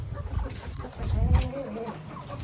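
Rhode Island chickens on an egg farm give soft, scattered clucks at close range, with a short louder cluster around the middle over low rumbling background noise.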